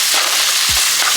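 Food frying loudly in a pan while being tossed and mixed, a dense steady sizzle with a brief low scrape partway through.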